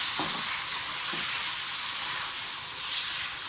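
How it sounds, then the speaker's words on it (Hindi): Chicken frying in a karahi for black pepper chicken karahi, a steady close sizzle with hiss and occasional scraping from stirring, continuous without talk. "थोड़ा सा इसको भूनें अच्छी तरह से।"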